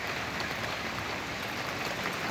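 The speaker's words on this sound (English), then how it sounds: "we got interrupted with the rain shower" Steady rain shower falling outdoors, a continuous broadband hiss of drops on surfaces at a moderate, even level with no voices.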